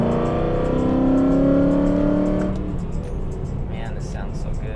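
A BMW E92 M3 fitted with Brembo brake calipers revs on the road, heard from inside the cabin with the windows up, a loud rising drone that climbs and then falls away to a steadier hum with road noise.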